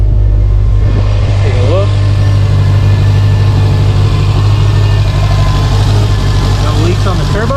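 A Subaru STI Type RA engine runs at a steady, loud idle after its first start, a constant low throbbing drone with people talking briefly over it.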